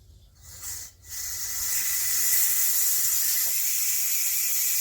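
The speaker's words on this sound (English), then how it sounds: "you got your hot air and your steam coming out and it's releasing all the pressure that's inside the Ninja Foodi." Steam vents from a Ninja Foodi pressure cooker in a steady, loud broadband hiss that swells after a brief dip and holds strong to the end, with no talking.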